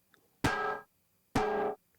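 A kitchen pan is struck twice, with distortion added to make it weirder. Each hit is a sharp, harsh clang with a short ringing tail, and the two blows are evenly spaced and isolated in silence.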